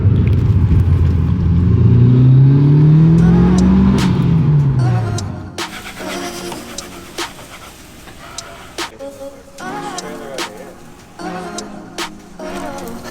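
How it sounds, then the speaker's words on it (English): Mitsubishi Evo 5 RS engine revving and accelerating hard, rising pitch sweeps for the first five seconds, then cutting to quieter clicks and mechanical ticking. "if you get the opportunity to drive an Evo 5 RS from New York up to Connecticut"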